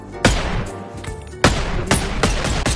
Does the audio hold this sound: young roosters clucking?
no